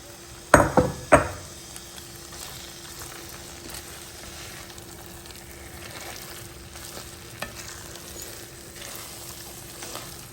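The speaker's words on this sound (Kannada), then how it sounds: "ಇವಾಗ ಹುರ್ಕೊಂಡಿರೋ ಗೋಡಂಬಿ ದ್ರಾಕ್ಷಿನ ಸೇರಿಸ್ಕೊಳ್ಳೋಣ" Roasted cashews and raisins tipped into hot ghee, giving a few sharp clattering stirs and bursts of sizzle early on, then a low steady frying hiss with scattered faint scrapes of the spoon.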